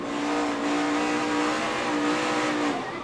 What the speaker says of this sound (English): tried to save it with his right foot by giving it a little bit of gas, but then around the Napa car went